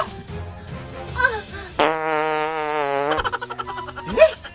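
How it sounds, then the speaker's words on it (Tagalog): A fart in a comedic skit, a long buzzy tonal blast with a steady pitch, loud and close, ending in a sputtering flutter, followed by brief speech. "Hindi ako buntis. Utot lang yon."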